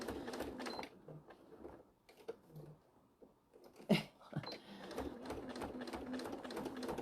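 A sewing machine stitches the fabric of a bag in quick rattling bursts, pausing mid-way with quieter handling noises before resuming, heard up close.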